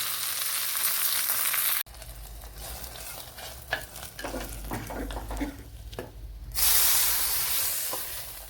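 Mustard seeds, onion and a dried red chili frying in oil in a pan for a dry anchovy dish, loud hissing sizzle with scattered stirring scrapes and crackles, the sizzle dipping midway then surging again.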